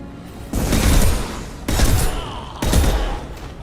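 Three heavy bursts of gunfire from the Mass Effect 2 video game, each a loud thumping volley with a decaying rumble, spaced roughly a second apart over a low background hum.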